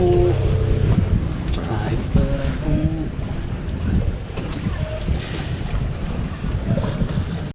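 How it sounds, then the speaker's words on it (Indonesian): A small wooden boat travels over open water toward Pulau Kunti, its motor droning steadily under wind buffeting and splashing waves. People talk intermittently nearby. "Kapal. Perahu."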